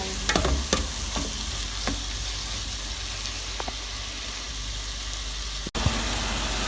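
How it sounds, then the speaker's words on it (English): Tomato and chicken sizzle steadily in a pan for chicken dum biryani, with a constant frying hiss and occasional scrapes and knocks as the mix is stirred, heard close up with no talking. "we are adding the tomato also. Cook this for 5 minutes like this."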